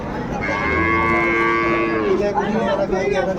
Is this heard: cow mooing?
yes